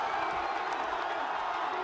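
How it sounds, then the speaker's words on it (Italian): A stadium crowd roars in a continuous, dense wash of cheering after a winning headed goal, steady and loud from start to finish with no single voices standing out. "Il colpo di testa della vittoria manda in delirio la folla"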